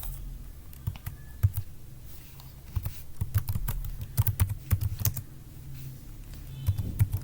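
Typing an address into a Microsoft Excel salary slip on a computer keyboard gives irregular bursts of crisp key clicks up close, some louder taps standing out against quiet room tone.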